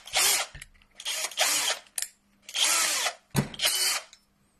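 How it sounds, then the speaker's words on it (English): A power drill fitted with an 8mm bit runs in four short bursts with gaps between, each whirring loudly at close range before stopping, with no voices. "So I'm just going to change over now to an 8mm drill bit."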